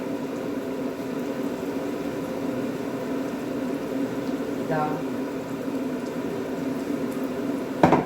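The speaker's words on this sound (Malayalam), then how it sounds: "ഇപ്പോൾ കെറ്റിലിൽ വെള്ളമൊക്കെ തിളച്ചിട്ടുണ്ട്." Water coming to a boil in an electric kettle during a breakfast preparation in a Vagamon pine forest setting, a steady low rumbling hiss that holds throughout with a brief click near the end.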